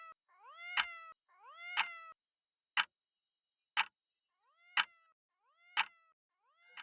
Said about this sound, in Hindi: म्याऊ म्याऊ करती है गुलाबी बिल्ली वहाँ पर घूम रही है।